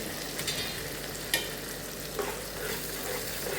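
Tomato puree with a paste of cashews, peanuts and onion fries in a pan for a cashew curry, a soft steady sizzle broken by a few scraping stirs, close and fairly quiet.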